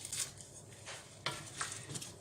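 Spoon working through a pot of blanquette de veau with a bay and thyme bouquet garni, giving soft wet scraping strokes and faint simmering sizzle, close and quiet with no talk.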